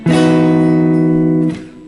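Guitar chord with the fourth in the bass, one strum ringing for about a second and a half before being damped, close and loud with no voice.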